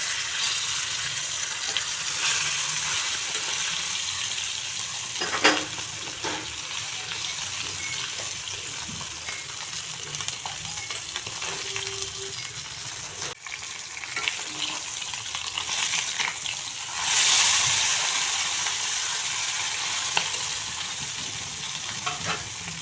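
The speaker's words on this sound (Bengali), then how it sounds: "সামান্য পরিমাণে তেল দিয়ে দিচ্ছি, দিয়ে মাছগুলো ভেজে নিচ্ছি।" Small puti fish frying in a little oil in a preheated wok, a steady soft sizzle with occasional stirring clinks and a brief louder burst near the end, with no talking.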